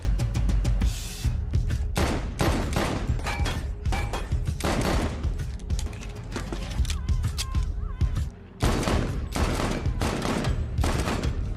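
Rapid volleys of gunfire in Red Dead Redemption while Dead Eye is active, dense loud shots and bursts continuing for several seconds with voices talking over them.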